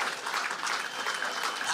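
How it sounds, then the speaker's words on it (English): Audience applause for a stand-up comedian at a CEO comedy show, a dense, continuous wash of clapping throughout the short stretch, fairly loud and without pauses. "give him another round of applause"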